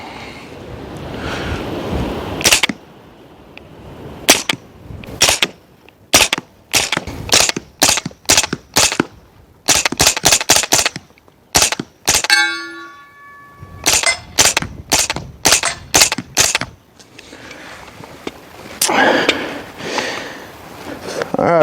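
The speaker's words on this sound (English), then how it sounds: "let's run a couple mags through this integrally suppressed AR9" Integrally suppressed Custom Aero EPC 9 AR9 blowback 9mm rifle fires into dirt outdoors, a long string of sharp, muted cracks in uneven bursts, close and fairly loud with wind noise between shots.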